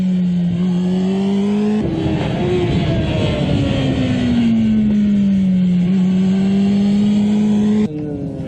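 A motorcycle engine drives through a corner on a racetrack, its tone dipping then climbing steadily as the throttle comes back on, loud and close with brief breaks in the whine.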